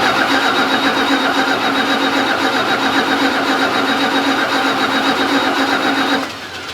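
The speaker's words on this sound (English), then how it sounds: "I guess we're gonna crank on it until either I smell fuel or see fuel or the batteries run" A classic Mopar car's starter cranks the engine continuously in a rapid, even chugging rhythm without firing, loud and close, before cutting off abruptly near the end.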